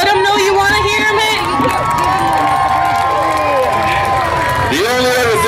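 Crowd at a demolition derby at the Comber Fair cheering and shouting loudly and continuously, a dense roar of many voices with whistles, close and steady throughout.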